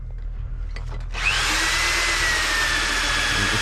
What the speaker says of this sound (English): And just drill through.